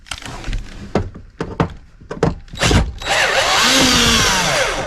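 A power drill drives small, short screws into a wall panel in an off-grid solar cabin, heard as several brief whirring bursts and thunks followed by a longer sustained drilling run near the end.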